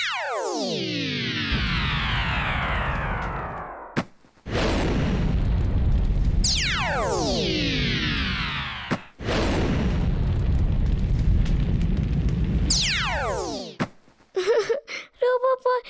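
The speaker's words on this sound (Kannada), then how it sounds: "ಅರೆ, ಪಟಾಕಿ ಫ್ಯಾಕ್ಟ್ರಿಗೆ ಬೆಂಕಿ ಬಿದ್ದ್ಬಿಟ್ಟಿದೆ" Cartoon explosions at a burning firecracker factory: about three loud rising-and-falling whistles, each ending in a heavy rumbling boom, one after another, with sharp pops and crackles near the end.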